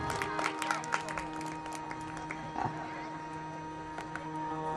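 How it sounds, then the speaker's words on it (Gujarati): An audience of children and adults at a Gujarati Santvani dayro claps for a musician, a dense, lively patter of applause with a droning tone running underneath. "એમને જોરદાર તાળીના ગરડથી આપણે વધાવીએ એટલે તાળીઓ પાડો છોકરાઓ"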